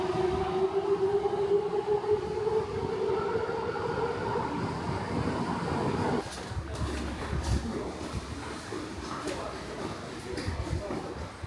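Low rumbling of a moving train in Japan heard from inside, a rising and falling whine carrying along, then a steady rolling hum with faint clicks and quiet voices.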